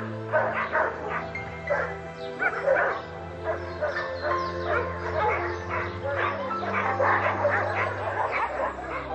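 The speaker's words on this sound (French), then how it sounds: "sors nos chiens les uns après les autres et je leur permets d'aller dans le parc de promenade pour se battre." Many dogs in an outdoor kennel play park bark, yip and whimper continuously and overlapping, some close and some farther off, with a low steady hum underneath throughout.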